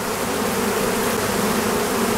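Honeybees buzz steadily at an open hive while two late wild swarms are combined into one, a dense, continuous drone of many bees close by with no voices.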